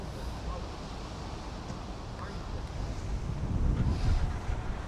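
Strong wind buffets a drone pilot's microphone outdoors in Welling, London, a heavy continuous low rumble that swells louder toward the end, with no clear voices.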